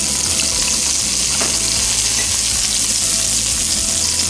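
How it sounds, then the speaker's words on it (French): Onions sizzle loudly in hot sunflower oil in a pan, a dense continuous crackle with bursts of spitting and stirring, close and steady throughout. "Rim a mis une poêle à chauffer avec de l'huile de tournesol. Elle y ajoute ses oignons"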